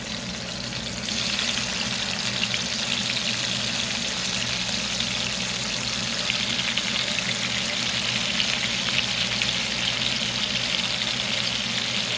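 Stuffed bitter melon filled with shrimp and fish frying in a pan, giving a continuous, even sizzle with a bright hiss that holds steady throughout over a faint low hum.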